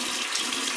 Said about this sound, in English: So now it's time to wash off the cleanser.